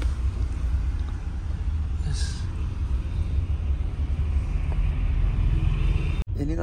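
A Volvo B11R converted sleeper bus drives on the road, a steady low engine and road rumble heard from inside the cabin. A short hiss of passing air comes midway, and the rumble stays continuous and fairly loud until an abrupt cut at the end.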